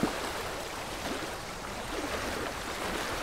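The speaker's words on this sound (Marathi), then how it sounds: "बघा हा धबधबा पाठीमागं" A waterfall roaring steadily from a short distance, a dense broadband rush of falling water with no pauses, moderately faint and alone.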